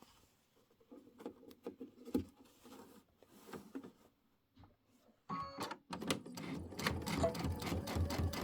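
Sewing machine stitching a pieced pillow top for a Kimberbell Let It Snow pillow, with quiet handling and soft taps early on, then a steady close whirring run of stitching in the last few seconds.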